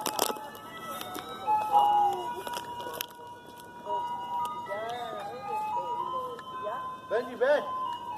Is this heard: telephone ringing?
no